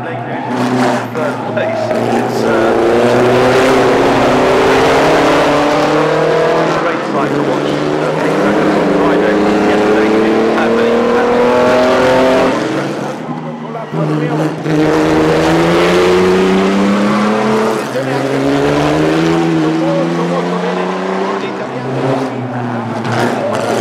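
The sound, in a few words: pre-war racing cars and voiturettes racing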